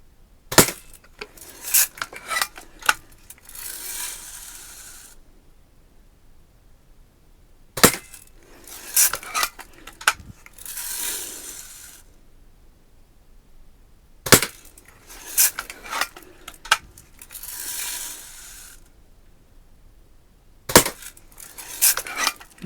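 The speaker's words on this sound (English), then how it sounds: "let's shoot the bottom left-hand target and see if I can hit anything for it" A 1984 Daisy Red Ryder BB gun fires at paper targets, four sharp shots spaced several seconds apart, each followed by a brief rattle of cocking and handling noise, close and clear with no talking.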